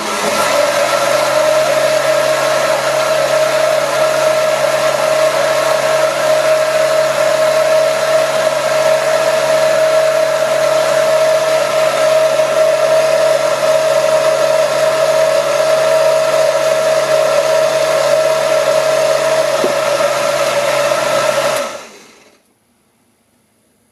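A blender making homemade mayonnaise runs at a steady, loud, continuous whir for about twenty seconds, then switches off and the sound dies away.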